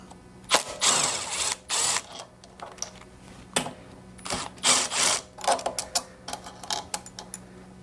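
Ratchet clicks and metallic mechanical rattling come from bolts being backed out of a power washer with no pressure, in bursts of short ratcheting strokes separated by pauses, close and fairly loud.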